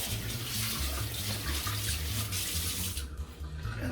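Tap water pours steadily into a kitchen sink as fingers are rinsed under it, close and continuous, then briefly thins out near the end.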